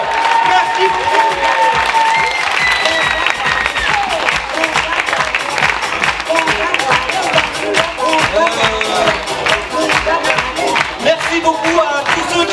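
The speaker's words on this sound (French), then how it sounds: "Un énorme applaudissement pour eux." Sustained audience applause at a closing show honouring student performers, dense clapping running steadily for the whole stretch with some cheering and voices mixed in the crowd.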